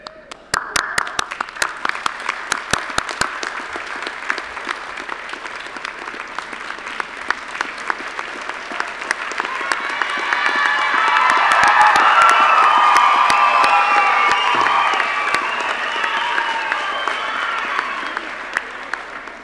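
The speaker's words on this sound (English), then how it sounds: "applaud those on stage, turn around 180 degrees and applaud your friends and family behind you" At a Massey University graduation ceremony in Auckland, a large hall audience claps in crisp, dense rounds that swell midway into loud applause with cheers and whoops, then ease off slightly.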